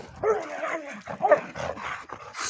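Several dogs in kennel enclosures bark and yip in quick, overlapping bursts, with some whimpering, fairly close by.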